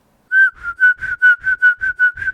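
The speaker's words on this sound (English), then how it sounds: "when I whistle, I breathe in. I don't blow out" A man whistles while breathing in, producing a clear steady tone broken into about nine short rhythmic bursts, close and loud.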